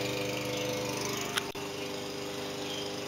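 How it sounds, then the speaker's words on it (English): A lawn mower engine drones steadily and loud, with a brief click partway through and no voices. "you hear that lawnmower. Yes, they just started it up."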